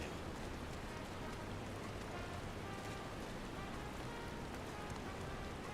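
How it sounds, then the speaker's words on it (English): Heavy rain falls steadily in a constant, dense hiss with no breaks or voices. "It's raining a lot right here right"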